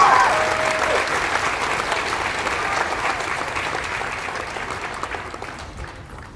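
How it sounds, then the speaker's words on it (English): Applause from the audience at a school Native American student services recognition ceremony, steady dense clapping that fades gradually over several seconds with no talk. "could you please give her a round of applause?"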